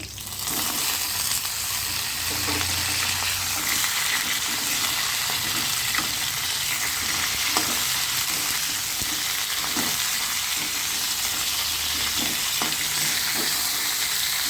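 Crab pieces frying lightly in oil in a pan, giving a steady, dense sizzle throughout with occasional soft stirring scrapes and clicks, no voices.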